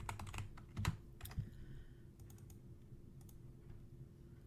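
Computer keyboard typing on a color entry during embroidery digitizing in Embrilliance Stitch Artist: a quick burst of close keystrokes with a sharper clack near the start, then sparse lighter taps, over a low steady room hum.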